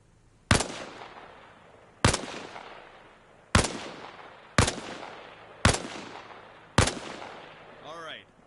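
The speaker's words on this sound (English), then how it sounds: "Position yourself behind the wall and lean out while firing." Six single gunshots from the Arma video game ring out at steady intervals, each a loud, sharp crack with a decaying tail, fired while leaning out from behind a wall; a brief electronic warble follows at the end.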